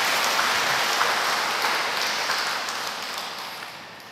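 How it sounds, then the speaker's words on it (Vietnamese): Church congregation applauding to celebrate the parish at a thanksgiving Mass, a broad, even patter of many hands clapping, steady at first and gradually fading toward the end, with no speech over it. "Chúng ta cùng nổ một tràng pháo tay để chúc mừng giáo xứ."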